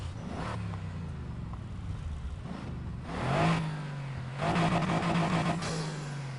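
A 4-liter V8 car engine in the racing game NFS Heat revs in short bursts, rising and falling in pitch several times against a quieter idle, fairly close and clear.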